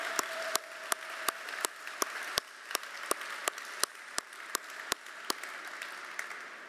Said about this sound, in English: how about a big round of applause for Rece Davis